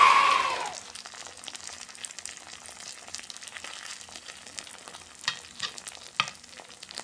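Crispy pork sisig on a sizzling plate opens with a loud hiss that quickly fades to a softer, steady sizzle with scattered pops and clinks close by, and no talking.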